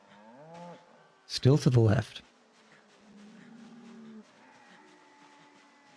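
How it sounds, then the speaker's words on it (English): A cow in Project Zomboid moos once, a loud, close bellow lasting under a second amid quiet game ambience, with a person talking briefly beforehand. "It's just normal cow noises so far."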